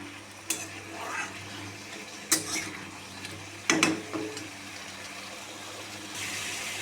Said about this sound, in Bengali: নুন হলুদ দিয়ে ভালো করে সবজিগুলি ভাজা করে নেব আগে